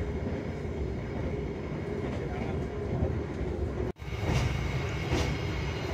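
Executive passenger train on the Jakarta–Surabaya line running at a little over 100 km/h, with a steady loud rumble and rattle inside the carriage throughout and a brief dropout partway, while a person talks over it.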